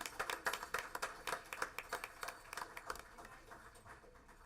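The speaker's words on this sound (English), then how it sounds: "Let's give them a round of applause." Scattered audience hand clapping at a school board meeting honoring chess state tournament students, a faint, thin round of individual claps that tapers off after a few seconds.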